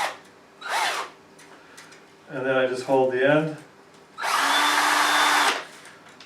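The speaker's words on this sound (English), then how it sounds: "So now I'm going to just put it in the drill chuck." A power drill spins a small antenna-kit part clamped in its chuck, a steady whirring burst that runs for over a second near the end, with someone talking briefly beforehand and short scraping sounds between.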